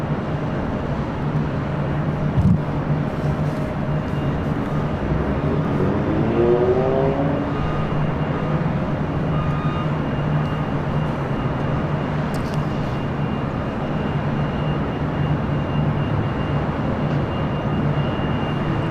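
Asiana Airbus A350 jet taxiing at LAX toward the north side of Tom Bradley terminal, a steady loud continuous engine roar with a low hum and a brief whine partway through.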